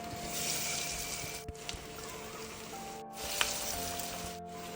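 Small bottle gourd and lentil vadai fry in hot oil, giving a steady, fairly soft sizzle and crackle that runs throughout with a few sharper pops.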